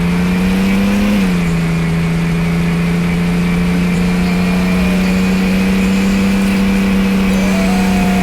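Car engine of a taxi in the Roblox game Taxi Boss drones at a steady, loud hum, pitch dipping briefly near the start before holding constant.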